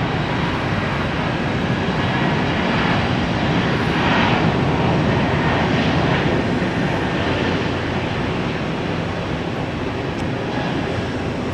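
Southwest airliner on its takeoff roll from a Tampa runway, a loud, steady broadband jet roar that swells slightly mid-pass and holds throughout with no talk.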